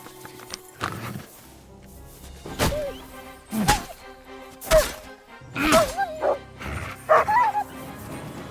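A dog in Kingdom Come: Deliverance II barks repeatedly in loud, close bursts with yips mixed in, mostly alone, with some faint game sounds between the barks.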